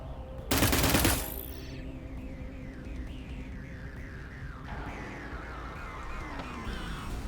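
Rifle gunfire in the video game Cyber Knights Flashpoint erupts as one loud, short burst of rapid shots lasting about half a second, then fades into quieter game ambience with soft warbling tones.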